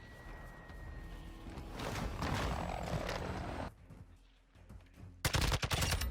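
Gunfire in the video game Modern Warfare 2, a rapid burst of automatic shots near the end after a stretch of rumbling engine-like background noise, with no talking.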